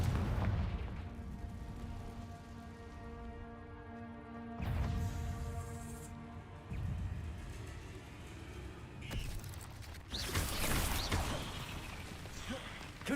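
Confringo fire spell blasts in Hogwarts Legacy: a series of sharp booming impacts and crackling bursts spread across the span, loud bangs breaking over a sustained droning musical bed.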